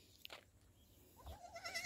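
Goat kids on a goat farm give a short, close bleat near the end, rising over quiet farmyard background noise with no talking.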